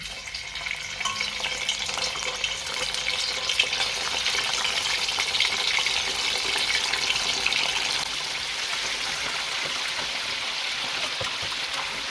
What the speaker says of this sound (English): It's now hot, so we are going to add the turkey to the oil.